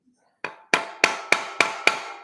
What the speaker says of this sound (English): I take a screwdriver and kind of whack